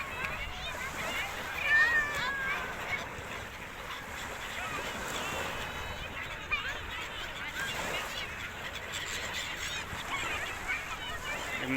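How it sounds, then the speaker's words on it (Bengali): Noisy flock of birds honking and calling as people feed them outdoors in Abu Dhabi, over a busy din, with people talking in the background throughout. "হুট চলে আসছে পাখিগুলো, খাবার যেখানে ওরা সেখানে সব হুট দিয়ে চলে আসছে"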